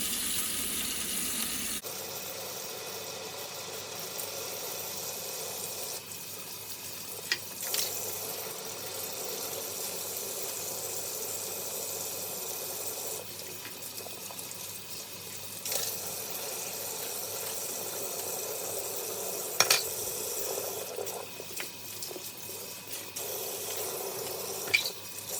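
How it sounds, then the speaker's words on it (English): Tap water runs steadily into a sink as plastic vacuum cleaner caps and a handle from an Electrolux Twin Turbo are rinsed, a continuous soft hiss with occasional clunks and splashes and no talking. "I'm going to rinse them off."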